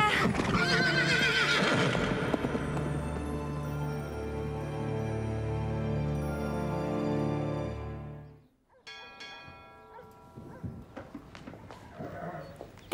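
A horse in an animated series, the mysterious ghost horse of a legend, whinnies loudly over hoofbeats galloping along with music for about eight seconds, then the scene drops to quieter scattered sounds.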